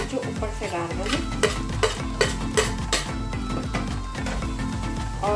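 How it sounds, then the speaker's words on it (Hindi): Roasted elephant foot yam and grated ginger tumble into a hot pan and are stirred, giving a steady sizzle with scraping spoon-on-pan clatter and a few sharp clinks, close and continuous. "अब इसमें ये भुना हुआ जिमीकंद डाल दें। इसमें ये कसी हुई अदरक जो ऊपर से डाल रहे हैं,"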